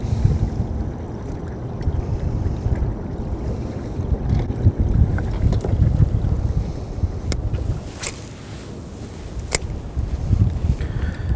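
Wind gusts across a lake during a fishing outing, a continuous low rush of microphone buffeting with water lapping beneath and a few sharp knocks and clicks from the boat.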